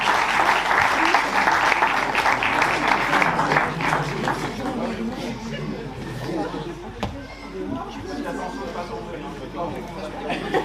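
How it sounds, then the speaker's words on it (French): An audience claps loudly for a group called forward during a church service, applause thick at first then thinning out with chatter running beneath it. "Vous pouvez les applaudir."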